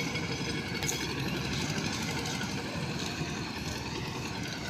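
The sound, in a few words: boat engine crossing a river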